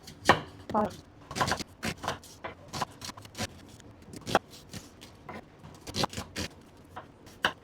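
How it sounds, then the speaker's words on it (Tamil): Onion chopped with a knife on a board, a quick run of sharp, uneven taps with short pauses between bursts, near and fairly quiet, with no talk. "அந்த கேப்பில் நம்ம என்ன பண்ணோன்னா இந்த வெங்காயத்தை கட் பண்ணிடலாம்"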